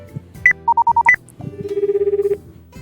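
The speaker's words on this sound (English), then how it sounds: "Eventually, the dial tone begins." A few electronic button tones, then a steady repeating phone dial tone in a video game, like a phone line ringing out, clear and close with no voices.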